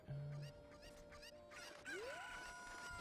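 Chickens cluck in a video game speedrun, several fowl calls and a crow-like cry sounding faintly over game music and tones.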